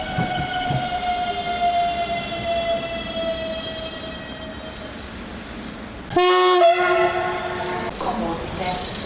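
A passenger train sounds a long sustained horn at a Slovenian railway station while arriving on track four, then a second, louder horn blast cuts in near the end over rumbling rail noise.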